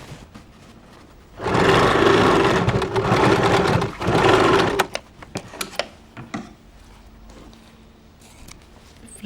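A sewing machine runs in a loud, steady burst for about three seconds while stitching a frill onto an inskirt, then stops and gives way to scattered clicks and light handling of fabric.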